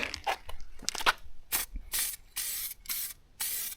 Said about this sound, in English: And it sprays on good. That's a nice can.